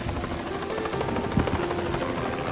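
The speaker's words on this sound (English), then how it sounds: "A helicopter was flying around him." A helicopter drones steadily with a rapid rotor thump, loud and continuous throughout.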